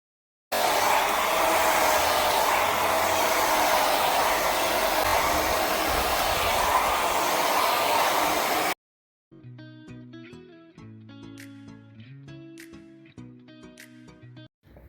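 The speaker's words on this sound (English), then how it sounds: "I just pull out everything and just do a big blow dry" A hair dryer blow drying natural hair runs as a loud, steady, close whoosh for about eight seconds, then cuts off abruptly, followed by soft background music.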